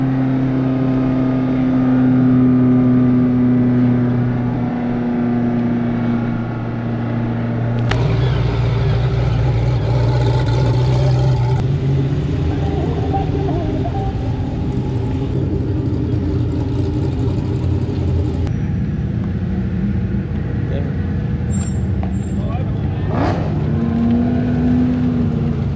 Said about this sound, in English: Driving a McLaren Senna GTR.